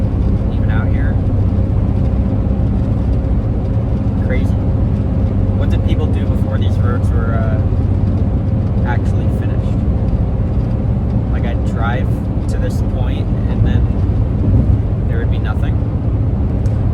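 Steady low road rumble from a car driving along a highway, constant and loud throughout, with a person talking over it.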